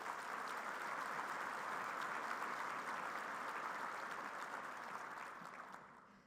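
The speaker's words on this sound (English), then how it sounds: "Please give them a round of applause." A conference audience gives a Space Force honor guard a round of applause after the presentation of colors, a broad, even roar of clapping that holds steadily and then fades out toward the end.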